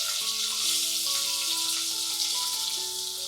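Hing, garlic, onion and chili frying in hot oil in a small 1BHK home kitchen, a loud, steady, dense sizzle running throughout with no talking over it.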